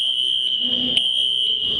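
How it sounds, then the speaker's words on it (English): A school fire alarm sounds during a drill: a loud, continuous, high-pitched electronic tone that holds steady throughout, with no voices. "They'll just press a button and the fire alarm will go off."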